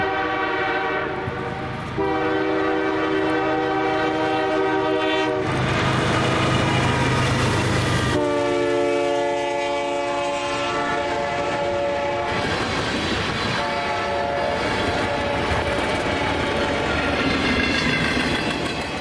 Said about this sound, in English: The first actual train of the morning was CSX M561, running westbound with 5480 leading